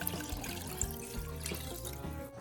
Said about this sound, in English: Now I'm gonna add 6 cups of water.